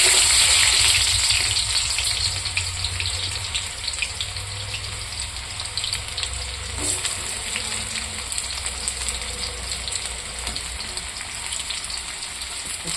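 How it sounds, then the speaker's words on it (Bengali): Hot oil in a pan for chicken gravy, giving a steady, loud hiss and sizzle that eases slightly after the first couple of seconds and then holds even throughout, with no voices. "এখন আমি তেলটা বসিয়ে দিয়েছি, তেলটা গরম হয়ে যাচ্ছে, পেঁয়াজটা দিয়ে দেব"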